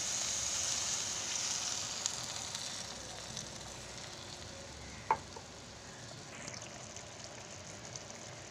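Pineapple juice sizzles and hisses steadily in a pan of fried spice paste with turmeric, salt and sugar for a rohu fish curry, a constant close frying crackle with one sharp clink midway.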